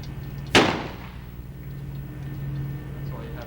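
A single sharp report from a percussion cap revolver fired outdoors at a historical demonstration at Fort Mifflin, a loud close crack that quickly fades into a steady background hum.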